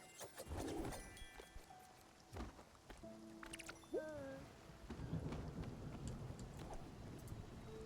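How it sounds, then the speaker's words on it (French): Thunder rolls over steady rain in a Spiritfarer game scene, with low rumbles, a few sharp cracks and water sounds. "Un orage."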